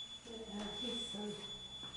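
A beeping elevator in an old church gives a steady high tone through the clip, with someone talking over it nearby.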